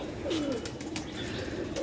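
Teddy pigeons in a loft give low, rolling coos, a couple of distinct calls rising from a steady close murmur of the flock.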